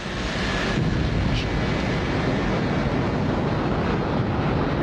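Lockheed SR-71 Blackbird jet engines at takeoff, a dense, loud, continuous roar with a brief sharper burst near the start, no voices.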